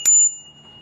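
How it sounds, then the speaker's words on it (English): One sharp, bright ding from the small bell on a Gyroor C1 Pro electric scooter, loud and close, ringing briefly before fading into quiet background. "We got a little bell on here too"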